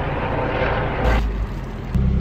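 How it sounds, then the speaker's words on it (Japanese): An airplane passes overhead as a loud, continuous low rumble and roar, heard close and steady with a brief swell in the middle, with no voices. "飛行機。"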